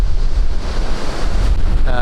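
Strong wind roars across a rocky coast at sunset, buffeting the microphone over the steady wash of surf, loud and continuous throughout.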